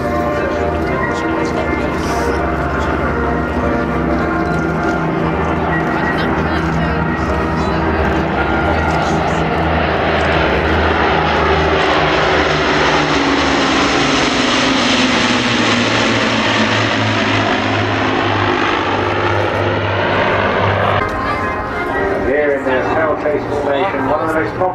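An Avro propeller aircraft flies past at an airshow, its loud, continuous engine drone rising and sweeping as it passes overhead, with a commentator talking over it throughout.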